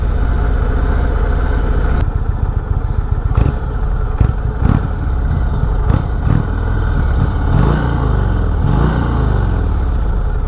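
An Indian Springfield Darkhorse motorcycle engine rumbles steadily and loudly throughout while cruising, with a few throttle blips and brief surges around the midpoint and toward the end.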